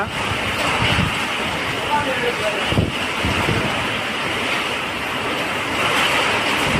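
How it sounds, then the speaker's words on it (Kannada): Heavy rain pours down as strong wind gusts through Rajanagudde in Bangalore, a loud, dense, continuous roar with no pause. "ಬೆಂಗಳೂರಿನ ರಾಜನಗುಡ್ಡೆಯಲ್ಲಿ ಭಾರೀ ಮಳೆ, ಗಾಳಿ ಮಳೆ ಜೋರಾಗಿ ಅಬ್ಬರಿಸುತ್ತಿದೆ"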